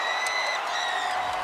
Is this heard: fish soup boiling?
no